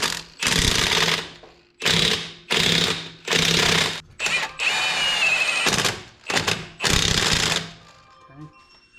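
An impact tool driving lug nuts on the wheels of a lifted 6.7L Powerstroke truck, hammering in repeated loud bursts close by, with brief gaps between nuts and a voice faintly in the background.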